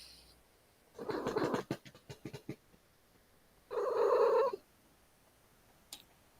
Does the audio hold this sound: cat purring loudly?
yes